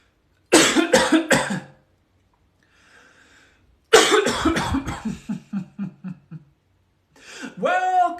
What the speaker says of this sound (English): I'll probably cough for a little bit